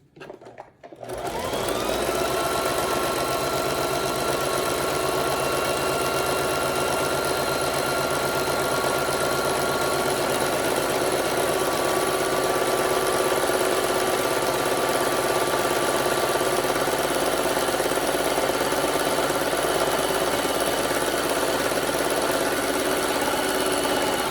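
A sewing machine runs continuously in a zigzag stitch, attaching trim along the edge of fabric for a stripper one-piece, a loud, steady mechanical whir that starts after a brief pause and holds unbroken to the end.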